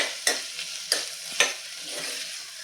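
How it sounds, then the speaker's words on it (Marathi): Potato and pea curry stirred in a pot, three distinct scrapes of a spoon against the metal spaced about half a second apart, with a soft simmering sizzle between them. "आता हे आपण परत एकदा मिक्स करून घेऊयात"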